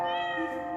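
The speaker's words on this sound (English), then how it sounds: "Cat. Lovely cat." A cat gives a single drawn-out meow, clear and close, holding a steady voiced tone for nearly a second with no other sounds around it.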